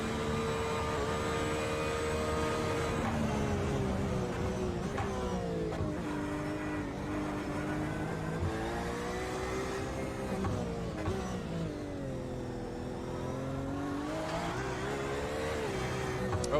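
GT4 race cars at Long Beach roar past close by, engines rising and falling through gear changes as several cars jostle in traffic, a continuous loud mechanical howl with no voices.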